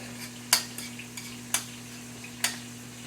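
Butter stirred into steak meat sizzles steadily in a hot pan, while a spoon scrapes and clinks against the metal in three or four distinct strokes over a constant electrical hum.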